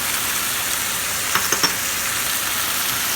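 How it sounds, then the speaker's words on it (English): Steady sizzling of garlic sautéing in a hot pan, with a few faint clicks of a utensil stirring partway through. "Stir it all in and only saute it for a little bit longer."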